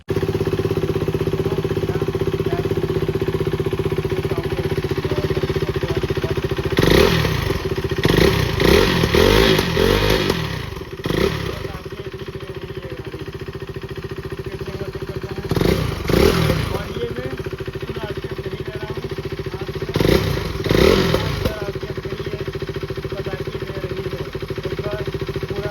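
A KTM RC 390 BS3 motorcycle idles loudly up close, then its engine revs hard in three separate bursts of sharp, crackling exhaust roar. The idle continues steadily between the bursts.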